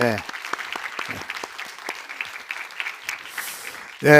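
Church congregation applauding at an anniversary thanksgiving service, a scattered, fairly soft patter of claps spread across the room, with a voice breaking in at the end.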